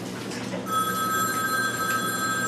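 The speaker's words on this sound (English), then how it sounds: "Can you get the phone for me" A telephone rings in a home kitchen during baking, its steady electronic trill starting partway through and repeating loudly over a low room hum, with no one speaking.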